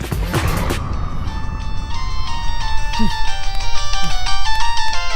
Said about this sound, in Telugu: ఏ వరుణ్, నీకు ఫోన్ అర్జెంట్.